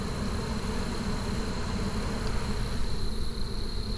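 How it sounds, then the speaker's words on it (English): Honey bees from a freshly caught swarm hum steadily and close in a branch, a dense continuous buzz holding level throughout with no voices. "There was actually a decent amount of bees still in that branch"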